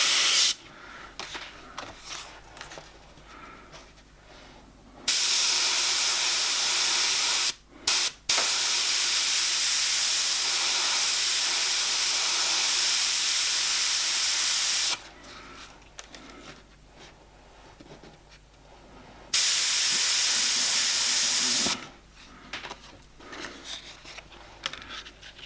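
An airbrush sprays paint along an owl stencil, working a tight local area near the eye; bursts of steady hiss run for several seconds each, separated by quieter gaps with faint handling noises.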